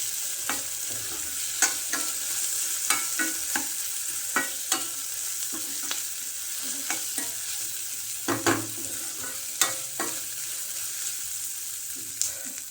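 Tomatoes frying in a pan over a medium gas flame, a steady sizzle with a utensil stirring and scraping in irregular clicks throughout, close and moderately loud, no talking.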